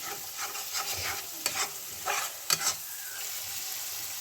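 Masala spice paste sizzles steadily in a pan for chicken biryani, with soft scraping stirs and a couple of sharper clinks of the spoon.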